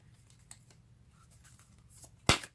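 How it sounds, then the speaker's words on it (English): A deck of tarot cards being shuffled, mostly soft and faint over a low hum, ending in one sharp, loud snap of cards near the end. "I just like to shuffle them again to wake them up on camera."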